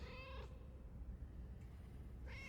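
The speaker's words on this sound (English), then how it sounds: "There are plenty of cats in the game" A cat meows in the video game Cronos: The New Dawn, two faint drawn-out meows at the start and end over a low background rumble.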